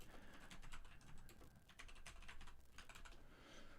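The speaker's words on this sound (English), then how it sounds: "Let me just type it in" Rapid typing on a computer keyboard, dense clusters of close, crisp key clicks with short pauses, quiet and without any voice.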